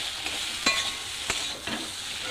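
Curry masala sautés in a pan with a constant, close sizzle, broken by three sharp scraping strokes of a spoon stirring it.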